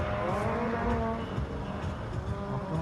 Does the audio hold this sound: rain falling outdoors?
no